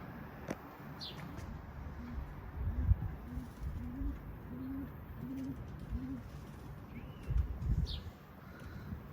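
A pigeon during flight training gives a run of about seven soft, evenly spaced coos at moderate distance, over a low outdoor hum with a few faint higher chirps.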